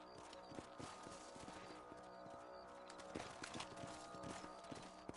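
Horse hooves clip-clop steadily in Red Dead Redemption as a rider patrols a ranch property, a continuous run of close walking hoofbeats over a busy game soundscape.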